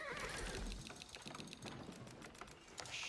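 A horse neighs in the strategy game Age of Empires, a short whinny over busy game sounds: clicks, clatter and steady background noise.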